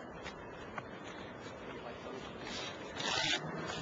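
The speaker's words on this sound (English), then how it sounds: "You guys watch Akira Asahara shuffle." A deck of Magic cards shuffled at a 2005 world championship quarterfinal match, a soft continuous riffling and rubbing that swells near the end, with faint room murmur underneath.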